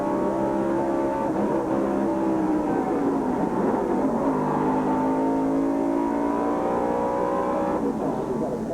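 Several NASCAR stock cars from the 1996 Coca-Cola 600 roar steadily into turn 1, a dense, loud, continuous engine drone with shifting pitch throughout and no talk.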